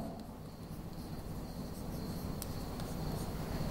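A pen writing out a number on paper, a steady faint scratching that runs continuously for a few seconds with no talk.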